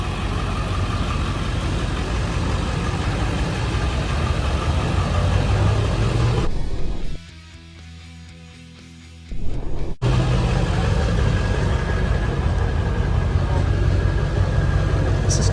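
A 7.3 diesel engine, reportedly in a 1991 Chevy Suburban, idles with a steady, rough rumble close by, cutting to near silence for a couple of seconds midway before the idle returns.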